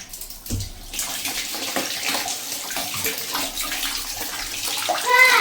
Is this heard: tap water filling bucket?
yes